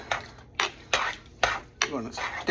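Spoon scraping and knocking around a pot of homemade Mexican rice or nacho ingredients, a series of five or six short clattering strokes at a steady rhythm, close and fairly loud with no talk.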